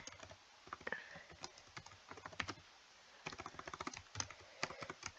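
Quiet typing on a computer keyboard during a coding lesson, rapid uneven bursts of light key clicks with short pauses between runs, steady and close, with no voice over it.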